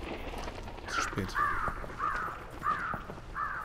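Crows caw in a game match of Hunt: Showdown, five harsh calls repeating at a steady rhythm over a low background rumble, moderately loud and fairly near.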